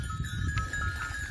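Sheep graze in a foggy village pasture, their bells clinking and ringing close by over a soft rustle of animals moving, with no voices.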